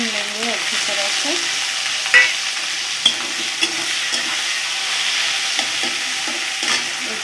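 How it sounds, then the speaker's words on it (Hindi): Onions sizzle steadily in hot oil with spices and tomato for a bitter gourd curry, a continuous frying hiss broken by a few soft clinks and scrapes of stirring. "अच्छे भून लेंगे अच्छी तरह से।"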